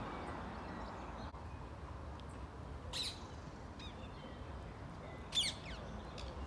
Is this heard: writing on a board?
no